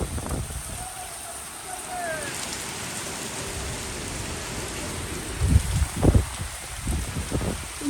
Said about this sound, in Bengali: বৃষ্টি হচ্ছে দেখো কি দারুণ বৃষ্টি হচ্ছে